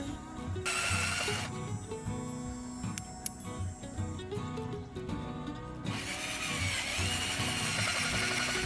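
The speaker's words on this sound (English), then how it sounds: "This was easily fixed with a lightweight cordless drill and a countersinking bit." A lightweight cordless drill fitted with a countersinking bit whirs in steady bursts while countersinking mounting holes on a Bronco, close and fairly loud, with brief pauses and a lower mechanical hum between runs.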